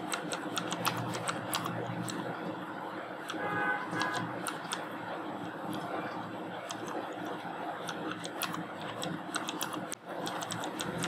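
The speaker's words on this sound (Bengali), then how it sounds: "এখন আমি এখানে একটা মেসেজ লিখবো এন্ড্রিউকে।" Steady clicking on a computer keyboard while a message is typed, a dense run of moderately quiet keystrokes throughout with a brief pause near the end and no speech.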